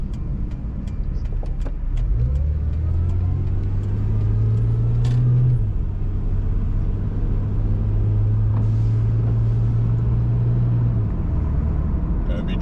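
A car cruises along the road with a steady close cabin rumble and tire-and-engine drone, a low tone rising and holding through most of the ride, no talking heard.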